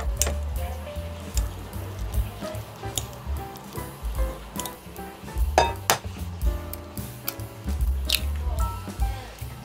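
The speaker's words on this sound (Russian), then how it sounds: "Теперь разминаем все вилочкой и добавляем яйцо" A fork mashing banana in a bowl, with repeated soft squishes and sharp clinks of metal against dish in an irregular rhythm, close up.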